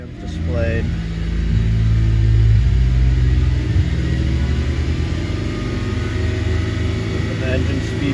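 Car engine revving loudly up close in a lab, a deep rumble swelling as the engine speeds up then settling to a steady run.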